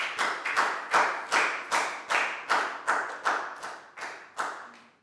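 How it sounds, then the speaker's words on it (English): Classroom applause for a student after a math lesson activity, heard as about a dozen crisp, evenly spaced claps from a few hands, close and fairly loud, with no talking. "High five and a big round of applause for Pangpon, please, guys."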